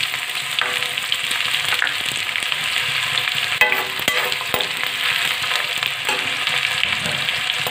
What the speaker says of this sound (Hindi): लहसुन और अदरक थी, अब प्याज डाल लेंगे,